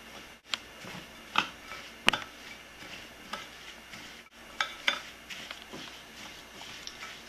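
Crumb topping of walnut, cinnamon and nutmeg being mixed in a bowl, soft scattered taps and clinks of a utensil against the dish in an irregular rhythm, quiet and close.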